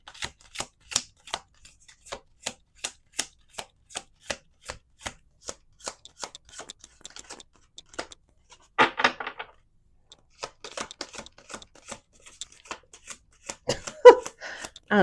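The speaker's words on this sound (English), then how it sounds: "We got six on the table, one in the reverse. Let's do two more shuffles." A deck of playing cards being shuffled, with sharp repeated riffling snaps and a longer burst of riffled cards, close and crisp against near silence.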